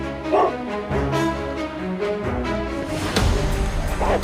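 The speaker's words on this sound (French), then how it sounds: "Je lâcherai le chien sur toi." A dog barks and yips repeatedly at close range in a tense indoor scene, loud bursts with whimpering between them.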